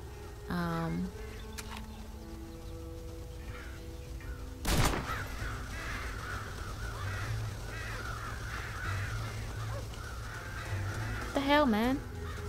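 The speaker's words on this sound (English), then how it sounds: "Scare the crows out of the silo." Crows caw loudly and repeatedly as they are scared out of a silo in the video game Red Dead Redemption, harsh calls near the start and again near the end, with a sharp bang midway and in-game voices speaking over a steady background.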